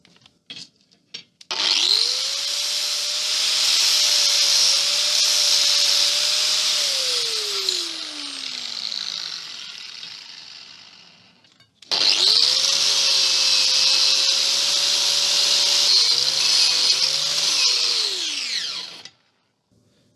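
A power grinder runs against a forged steel arrowhead, making two long, loud, whining bursts of steady high grinding, each winding up and down, with a short pause between them and no talk.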